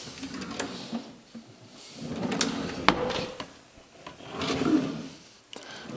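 Workshop storage drawers in a two-car garage slide open and shut, giving several rubbing wooden runs and soft knocks spread across a few seconds, close by and with no talking.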